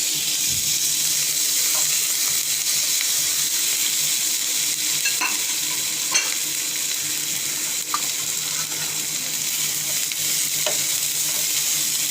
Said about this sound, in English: So we allow these ingredients to splutter for a few seconds to bring out the aroma into the oil